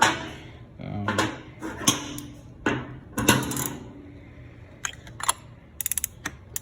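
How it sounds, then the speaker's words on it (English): Ratchet with an extension and oil filter socket worked on a 2021 Kawasaki ZX6R motorcycle: scattered metallic clunks and handling knocks, then a quick run of close ratcheting clicks at the end. "grabbing the appropriate size oil filter socket, extension, and ratchet"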